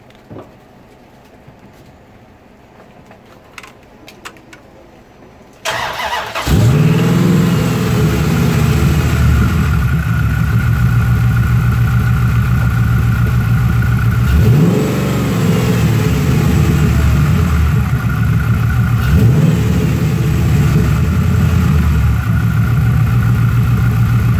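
Dodge Dakota engine, suspected of needing rings and pistons, cranks and catches after a quiet moment, then settles into a loud, steady idle with a couple of rev blips, close and continuous.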